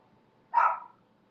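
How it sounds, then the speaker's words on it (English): Oscar the dog gives a single short, sharp bark indoors, fairly close, against a quiet background. "Oscar, you're barking at nothing, man."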